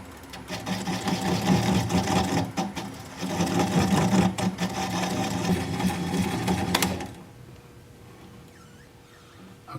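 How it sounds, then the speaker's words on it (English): A cherry burl bowl spins on a lathe while a 3/8 inch swept-back bowl gouge cuts into it, giving a steady whirring scrape with rhythmic knocks that stops abruptly near the end, leaving faint room noise. "I'm going to switch to a 3/8 inch swept back bowl gouge so I can get in there closer."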